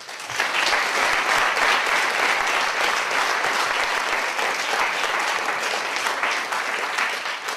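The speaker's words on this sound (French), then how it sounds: "qu'on peut encore applaudir toutes les quatre comme ça" An audience applauds four actresses after a performance, loud, sustained clapping from a full room that stays strong and steady throughout and eases slightly near the end.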